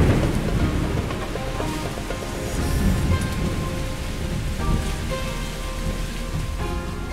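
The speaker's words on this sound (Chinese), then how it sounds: "下大雨了。" Heavy rain pours steadily with rumbling thunder rolling through, a dense, loud wash of drops on surfaces that swells and eases without pause; no voices.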